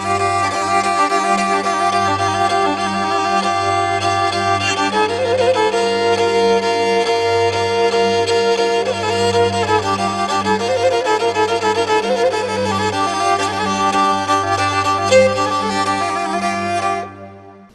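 Black Sea kemençe playing horon dance music, a bright, fast bowed melody over a steady low droning accompaniment, continuous and loud throughout before stopping abruptly at the end.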